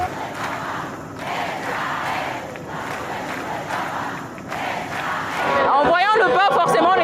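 A huge crowd of young people at World Youth Day 2023 cheers the Pope's arrival, a loud, steady roar of voices and shouts that swells near the end into shrill whistles and excited screams.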